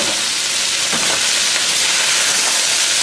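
Gai lan, Chinese broccoli, hits a hot pan for a beef stir fry and sends up a loud, constant sizzle and hiss that holds steady for three seconds with no voices.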